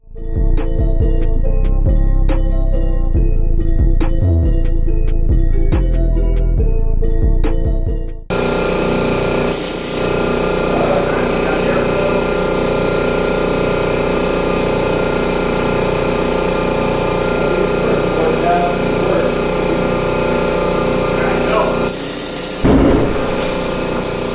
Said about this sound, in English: We're about to blow them up, use the fire method, see if we can get these beads to pop.